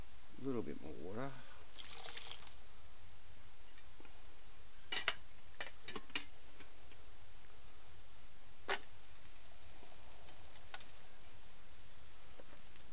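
Water pours into a pan of mushroom and vegetable sauce on a woodgas stove in a short burst at the start, followed by faint clinks and scattered ticks in a quiet setting.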